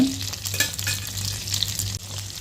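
Drumstick and raw mango pieces sauté in hot oil for a fish curry, sizzling loudly and close up. The frying crackles steadily, with a few spatula scrapes and stirring knocks mixed in.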